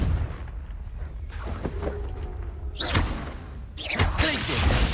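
Confringo blasting spells fired in the video game Hogwarts Legacy, several punchy bursts with sharp thuds and crackling impacts over continuous game sounds, the loudest blasts arriving near the middle and end.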